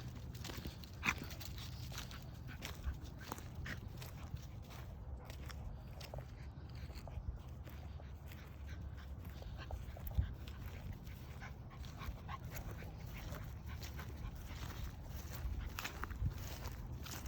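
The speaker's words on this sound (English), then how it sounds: "the dog is breathing hard and right behind the fence" A young poodle-mix puppy pants hard right behind a fence, steady rapid breathing mixed with scuffling paws and small clicks, close and continuous.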